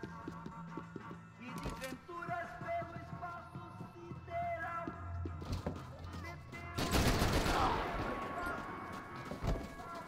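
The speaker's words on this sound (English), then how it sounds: "There's dense random bullets" Scattered gunfire in the video game Max Payne 3, sharp shots and a dense burst of fire in the middle, mixed with game sounds and a voice talking over it.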